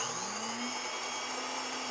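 A grain mill grinds whole wheat into flour with a loud, steady high-pitched whine like a vacuum cleaner, running continuously and close by with no talking.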